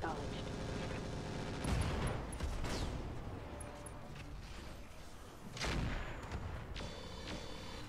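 Artillery strike in the video game Roguepoint, a dense, sustained rumble of explosions with heavier booms swelling near the start and again later, loud and continuous.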